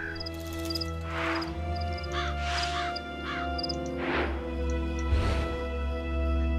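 A crow in a fairy-tale mystery puzzle video game caws repeatedly in an uneven rhythm. The calls ride over a steady, humming musical background.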